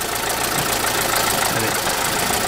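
A car engine idling unevenly, a loud continuous mechanical drone with a slight knocking roughness throughout, heard close and alone.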